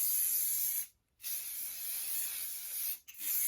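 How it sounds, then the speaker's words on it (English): Hairspray hisses from an aerosol can onto hair during pageant pin-curl styling, two steady sustained bursts split by a brief pause, close and loud with no talking. "now this is a good time to hairspray. Front and back."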